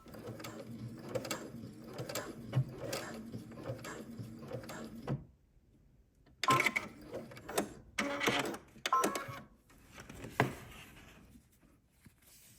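A sewing machine stitches along a fabric belt in close mechanical bursts, a whirring run with rattling clicks, then a pause and several shorter start-stop runs for back stitching.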